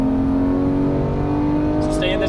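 Porsche GT3 engine revving on a racetrack, a steady in-car drone that climbs slightly in pitch, heard under an instructor's voice.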